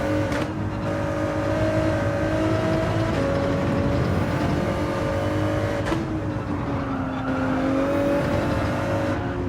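Race cars lapping in Gran Turismo 7, a loud, continuous engine drone with pitch dipping and climbing through shifts, dense and close throughout without any talking.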